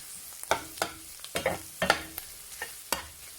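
Fried rice is stir-fried in a pan, with about eight quick scraping stirs over a faint sizzle, close and without talk.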